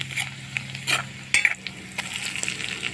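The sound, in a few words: panch phoron spices and garlic paste frying in oil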